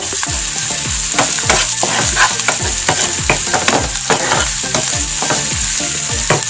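Masala frying and being stirred in a pan for Andhra fish curry, with a loud continuous sizzle broken by rhythmic scraping strokes of the spoon, close up with no talking.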